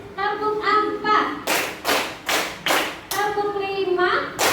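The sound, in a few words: rhythmic clapping pattern in a classroom clap game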